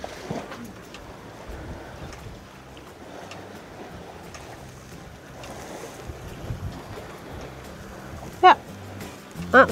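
Sailboat gliding quietly under sail off the Scottish coast, with soft continuous wind rushing over the microphone and a low wash of water along the hull, broken only by a couple of faint creaks or knocks near the end.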